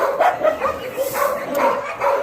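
Dogs bark and yip repeatedly at an animal shelter in Bečej, Serbia, among large dogs including Rottweilers, a steady overlapping chorus of close, loud barks filling the kennel area.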